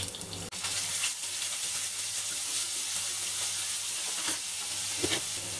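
Cumin seeds, asafoetida and ground garlic hiss and sizzle steadily in hot oil, a dense continuous crackle that stays close and loud, with a brief dip near the start and small spits of oil.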